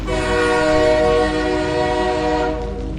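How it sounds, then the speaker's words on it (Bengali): A loud, sustained train whistle blares continuously over the rumble of a train moving at night, fading slightly toward the end. "চারিদিকে অন্ধকার ভেদ করে তখন ট্রেন এগিয়ে চলেছে হুইসেল দিয়ে"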